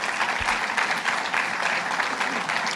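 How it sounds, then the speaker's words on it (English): An audience at a sustainability conference claps in a full, steady round of applause that lasts throughout, dense and even with no break. "Give her a round of applause."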